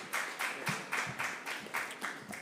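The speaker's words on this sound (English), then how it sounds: "Can we recognize him with a short applause?" Brief applause from a conference audience at a national climate change council session, a steady patter of claps at moderate distance that carries on evenly for a couple of seconds without voices.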